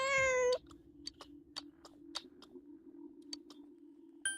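Cat in the video game Persona 4 Golden gives one clear meow at the start, followed by a run of light, evenly spaced clicking ticks over a steady low hum.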